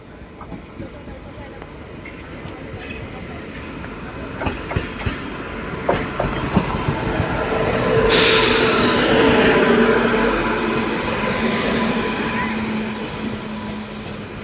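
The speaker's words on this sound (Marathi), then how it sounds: "फायनली मांडवी एक्सप्रेस आलेली आहे आपल्या ट्रेनच्या आधी." The Mandovi Express rolls into a railway station, its wheels clattering over rail joints as it builds to a loud, close roar and squeal that lingers, with people talking nearby.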